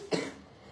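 A single short cough comes from a woman close by, sharp at the start and fading fast in an otherwise quiet room.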